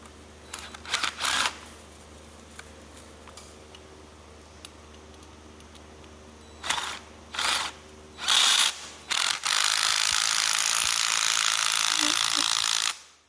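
Ratcheting clicks as the bow brackets of a Giftbox Arch decoration are tightened: short bursts of mechanical clicking, then a longer, steadier run of ratchet noise near the end.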